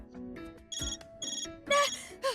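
A phone in Death end re;Quest rings with bright electronic chimes, a few repeated tones followed by rising warbling beeps, close and fairly loud against a quiet background.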